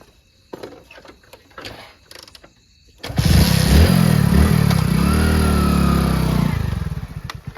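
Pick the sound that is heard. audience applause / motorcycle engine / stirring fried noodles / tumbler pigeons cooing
motorcycle engine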